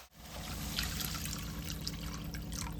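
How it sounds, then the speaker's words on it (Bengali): Water poured steadily into a pan of Bengali spice masala that has been frying in oil with potatoes and raw eggs, a continuous close trickle and splash lasting a few seconds without speech. "এই সময় আমি দিয়ে দেবো এর মধ্যে জল"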